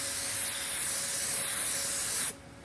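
Continuous hissing blast of a spray gun laying base coat paint in a mobile body repair, loud and steady for about two seconds before cutting off abruptly, with no talk over it.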